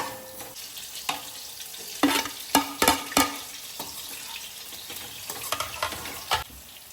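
Carrots with green chilli and turmeric sautéing in a pan, giving a soft steady sizzle broken by a handful of sharp scraping stirs and clinks of a spoon against the pan, close and moderately quiet, with no voices.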